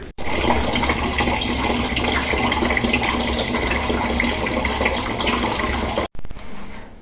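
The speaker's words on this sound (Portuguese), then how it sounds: "Primeira coisa que eu vou fazer é colocar água pra amornar no micro-ondas." Water is poured into a container for warming before making homemade bread, a loud continuous splashing stream lasting about six seconds before it abruptly stops, followed by a quieter trickle.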